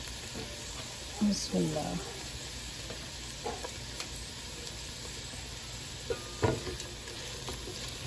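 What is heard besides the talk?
capsicum (bell pepper) frying and being stirred in a pan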